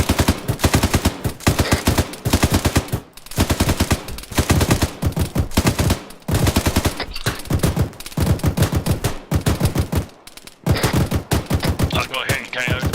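Heavy rapid gunfire in ArmA 3 during a British military simulation training exercise, many overlapping automatic weapons firing loud continuous volleys broken by short gaps.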